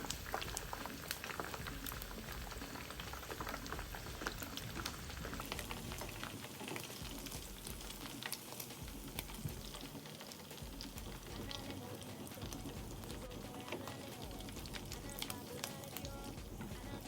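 Steady, dense bubbling and crackling of snails deep-frying in hot oil, close and continuous with no talking.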